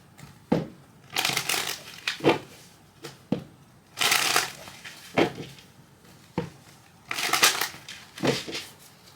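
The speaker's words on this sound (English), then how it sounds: "Let me give a quick shuffle here." A tarot card deck is shuffled repeatedly in quick riffling bursts, each lasting about a second, with short pauses and soft taps between.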